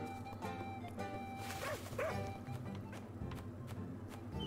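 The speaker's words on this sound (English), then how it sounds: "Look at how cute the doggy is." A dog in the video game Little Goody Two Shoes gives a few short yips and whimpering barks over a steady humming game backdrop, fairly soft and close.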